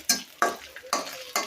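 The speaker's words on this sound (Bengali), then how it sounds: "ভালো করে মাছটা ভাজা নিলাম আর রসুন দিয়ে নিচ্ছি।" Dried kachki fish frying with garlic in a pan, stirred in four sharp scraping strokes over a soft sizzle, close and fairly quiet.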